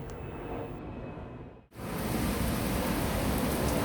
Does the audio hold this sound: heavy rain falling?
yes